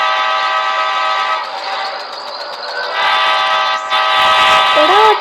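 Loud, sustained multi-tone train horn from the video game Choo Choo Charles, with steady rumble underneath and a brief rise in noise near the end.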